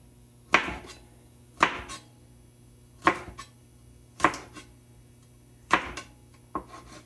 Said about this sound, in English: this is the way that I like to cut my okra